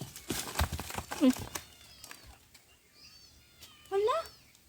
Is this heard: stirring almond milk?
no